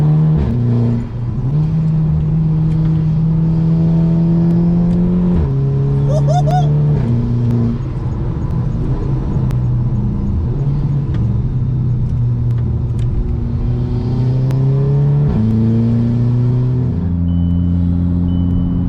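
Exhaust of a 2008 VW Golf GTI Mk5 Edition 30 with DSG gearbox, loud and close, revving and droning through several stepped gear changes with deep pops between shifts, over a steady rumble.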